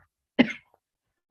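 A single sharp cough from a person, close and alone in an otherwise quiet room, followed by a faint throat sound.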